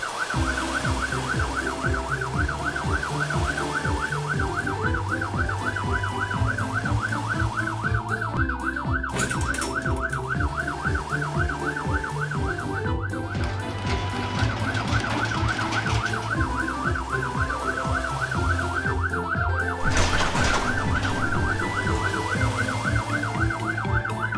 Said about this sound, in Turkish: Polis arabası devriye gezip her şey yolunda mı diye kontrol ediyor.